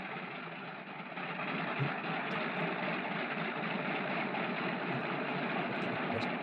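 A Curtiss seaplane's aircraft engine, set at full rich, starts and settles into a steady, loud, droning roar that fills the whole stretch with no voices.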